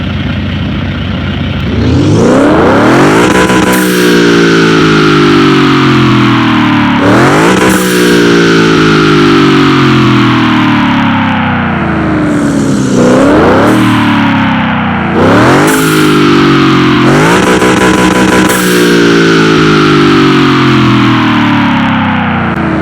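A 1300 HP Aston Martin DBX with a newly installed engine fires up and revs hard, giving a series of loud, close throttle blips, each one rising sharply and then falling away.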